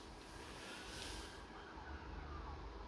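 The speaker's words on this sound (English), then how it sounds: "Did you hear the sirens?" Distant emergency siren wailing faintly beneath a steady broadband rumble of traffic, with no voices.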